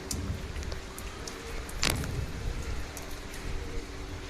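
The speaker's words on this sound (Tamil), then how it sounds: "செம்ம மழை பெய்யுது" Heavy rain falls steadily in Chennai, a dense, continuous hiss of downpour close by with no voices, broken by one brief louder splash or gust near the middle.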